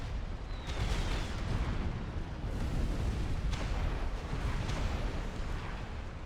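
Artillery fire and explosions from the real-time strategy game Supreme Commander: Forged Alliance, a dense continuous rumble of booming impacts and bursts layered over one another, loud throughout with no voices.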